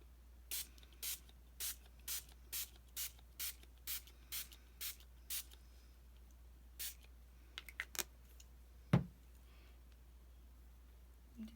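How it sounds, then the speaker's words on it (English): A spray bottle spritzes over a stencil for a journal tag: a quick regular series of about ten short hissing puffs, then a few scattered sprays and a soft thud, close and quiet with no talking. "I'm going to give it a spritz in."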